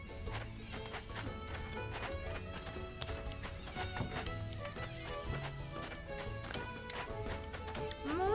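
Horse hooves clip-clopping with a whinny in the video game Rivershine, heard under a steady bed of game music throughout.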